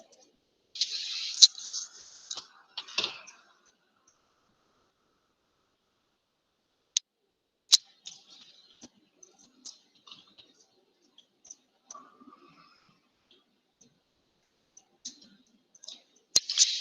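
Computer mouse clicks come through as a few sharp, isolated ticks spread across a mostly quiet stretch, close and fairly faint, after a short burst of other noise at the start.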